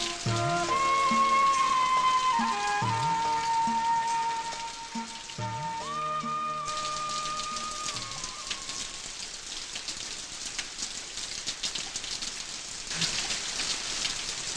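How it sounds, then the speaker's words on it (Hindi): Heavy rain falling, a constant dense hiss of drops that carries on throughout, with sustained musical tones and low swells over it during the first half. "ये बारिश रुक क्यों नहीं रही?"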